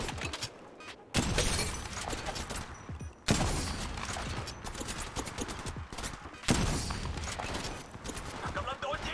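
Rapid bursts of gunfire from the mobile battle royale game Apex Legends Mobile, loud and dense, with sharp shots and brief pauses, and someone talking over the shooting.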